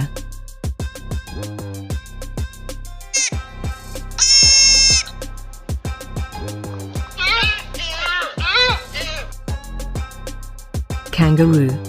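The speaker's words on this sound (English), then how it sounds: "Deer." A deer calls in repeated bleating cries, some short and some drawn out into long, wavering high bleats, heard close over a steady musical backing with brief pauses between calls.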